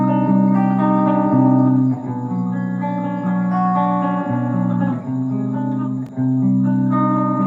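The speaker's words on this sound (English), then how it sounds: "having lots of distortion and doing power chords" An electric guitar plays power chords through heavy distortion, producing thick sustained chords that change every second or two with a few brief gaps, loud and close, with no talking.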